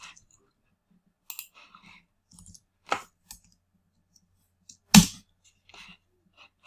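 Scattered computer mouse clicks ring out in a quiet room, single sharp taps spaced irregularly, one noticeably louder than the others.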